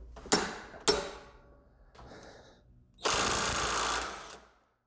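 Harbor Freight Bauer impact driver hammering at a 100 foot-pound setting: two sharp close impacts, a brief softer burst, then a loud sustained rattling hammer run of over a second that stops abruptly.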